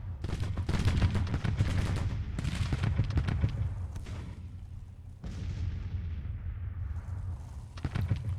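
Rifle volleys and 6-pounder field gun fire in a Grand Tactician Civil War battle at Wilson's Creek: dense, continuous crackling gunfire with deep booming reports throughout, loud and close, briefly thinning in the middle before surging again.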